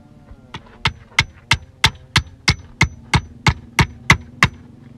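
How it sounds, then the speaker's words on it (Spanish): Hammer driving nails into wood while building the base of a tippy tap, about a dozen sharp, evenly spaced close blows in a steady rhythm. "Vamos a clavar."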